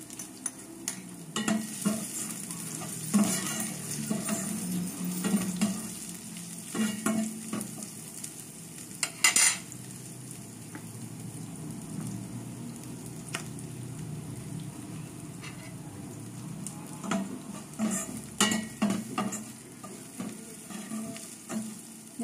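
Onions sautéing in a pan for galunggong and eggplant adobo, a steady close sizzle broken by repeated clinks and scrapes of a spoon stirring against metal.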